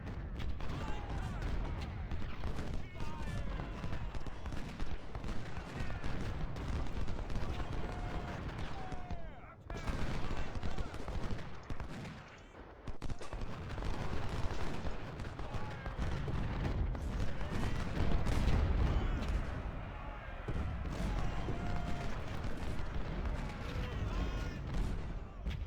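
Civil War cavalry firing carbine volleys in the strategy game Ultimate General: Civil War, dense rolling crackles of musketry and distant booms run steadily throughout, with someone talking over the battle noise.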